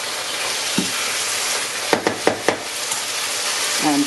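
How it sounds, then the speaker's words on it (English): Mince cooking in a pan as it comes up to the boil, a loud steady sizzle that fills the whole stretch, with a few spoon clanks against the pan midway. "add the mince back in. Just bring it up to boil"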